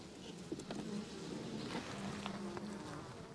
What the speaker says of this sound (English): It's filled with bees. Eight frames of bees.